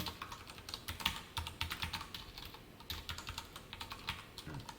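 Fast, close computer-keyboard typing while JavaScript code is written, with crisp clustered key clicks in quick runs and short pauses and no speech.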